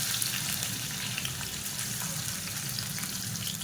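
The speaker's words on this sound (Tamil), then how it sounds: "எண்ணெய் சூடானதும் பெரிய வெங்காயம் நீளமாக நறுக்குனதை ஒரு 2 கை அளவுக்கு சேர்த்துக்கலாம்" Long-sliced big onions frying in hot oil for kuzhambu, a steady close sizzle and crackle that holds evenly from start to finish with no voices.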